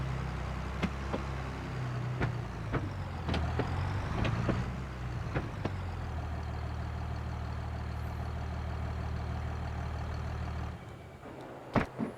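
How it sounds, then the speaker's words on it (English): A farm tractor's diesel engine rumbles steadily with a low, droning tone while towing a hay baler into a barn, joined by occasional clanks and knocks before the engine cuts out near the end. "I guess we're going to pull this baler right into the barn. Might as well keep it hooked to the tractor."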